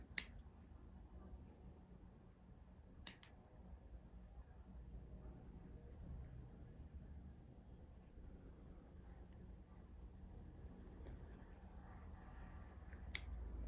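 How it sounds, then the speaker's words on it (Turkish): Scissors snip thread at the base of a needle lace piece: three crisp, isolated cuts spaced seconds apart against a very quiet room. "Dip kısmından şöyle keselim."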